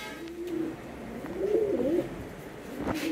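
Domestic pigeons at a small home loft coo in soft, low, rolling calls, a few drawn-out phrases close by over faint background rustle.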